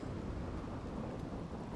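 A loud thunderstorm with rain in the game Rimworld, a dense steady rush of rainfall and low rumbling that fills the whole stretch without pause.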